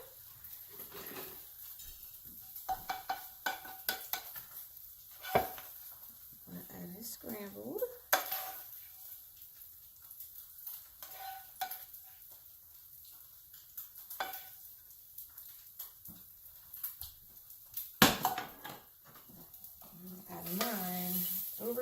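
An egg cooks in a pan for a grits breakfast bowl. There is faint sizzling, with scattered clinks and scrapes of utensils against cookware. Quiet talk can be heard at moments.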